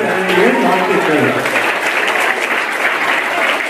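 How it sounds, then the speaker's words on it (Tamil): Audience applause fills a school's 55th anniversary celebration at Kanagapuram Maha Vidyalayam, Kilinochchi: dense, steady clapping from a crowd throughout, with a voice heard briefly near the start. "எங்களுடைய கரகோஷங்கள் வாழ்த்துக்கள்."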